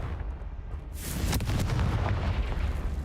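A Confringo explosive spell cast in Hogwarts Legacy erupts into a sudden loud blast and a sustained rumbling roar that fills the rest of the moment, heard alone with no talk.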